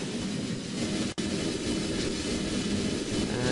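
A steady, loud roar of Rockomax rocket engines throttling up at launch in Kerbal Space Program, a broad continuous rumble with one brief dropout early on.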